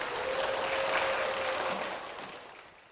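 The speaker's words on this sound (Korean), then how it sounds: "박수로 모시겠습니다." A church congregation applauds to welcome a guest to the front, a dense, steady wash of clapping from many hands that fades out toward the end.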